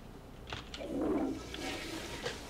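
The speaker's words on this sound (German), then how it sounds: "Ich habe ja nur gespült, ich habe ja nicht gepinkelt." A toilet flushes in the horror video game The Horror Within, a short, close rush and gurgle of water that swells and then fades.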